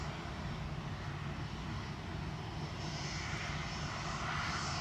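A TUI Boeing 737-800 at Manchester Airport gives off a continuous, broad jet roar that stays steady from a moderate distance and swells slightly toward the end.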